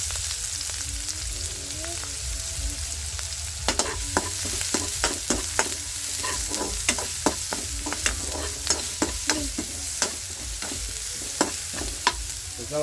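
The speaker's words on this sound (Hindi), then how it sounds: "अभी देखिए ऑयल डाल दिया, तो हम लोग इसमें ग्रीन चिली डालेंगे। उसके बाद में चॉपिंग ऑनियन डालेंगे इसे।" Green chillies and chopped onion fry in hot oil for a village-style chilli paratha, a steady close sizzle with rhythmic spatula taps and stirs against the pan throughout.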